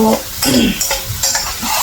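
Spatula scraping and stirring in a very old, large wok with a steady sizzle, several clattering strokes in quick succession, close and fairly loud.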